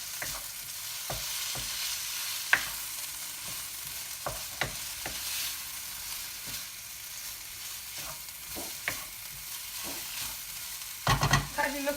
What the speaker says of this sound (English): We're going to give it another quick mix in a second